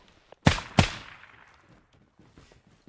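Two sharp, loud gunshots ring out close together in a tactical shooter game, each with a trailing echo, followed by a quieter stretch with faint scattered sounds.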